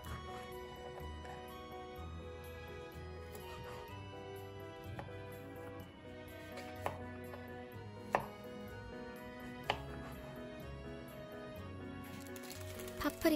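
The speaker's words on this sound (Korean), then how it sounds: "버섯을 먹기 좋은 크기로 슬라이스 해줍니다" Mushrooms are sliced with a knife in a home kitchen, giving soft, irregular taps on a cutting board under quiet background music.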